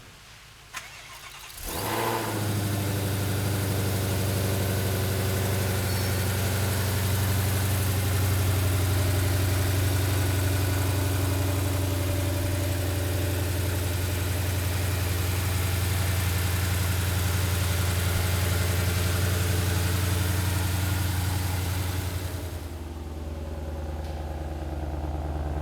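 A 2022 Ford Mustang Shelby GT500 with 760 horsepower fires up and settles into a steady, deep idle that runs loud and close for about twenty seconds, then fades slightly toward the end.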